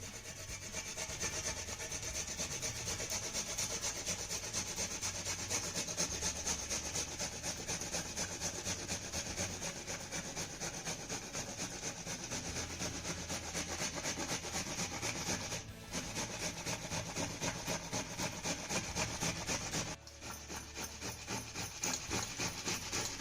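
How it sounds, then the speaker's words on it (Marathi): Tomatoes are grated by hand on a grater in a steady, fast rhythm of wet scraping strokes, continuous and close, with a couple of brief pauses. "म्हणून आपल्याला हा टोमॅटो ना किसून घ्यायचा आहे."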